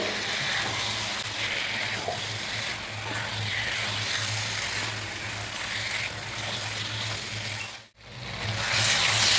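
Marinated chicken sautés in a pan over high heat, a continuous loud sizzle and crackle with scraping stirring, briefly dropping out near the end before resuming stronger.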